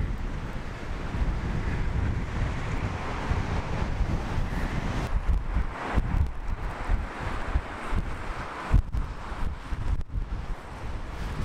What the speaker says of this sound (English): It's kind of windy here.